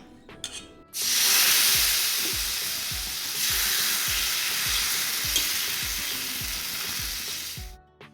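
Ragi dosa batter mixed with a spoon of grated coconut sizzles loudly as soon as it hits a hot pan, a steady, close hiss that holds for about seven seconds, with soft rhythmic low ticks underneath, then stops abruptly.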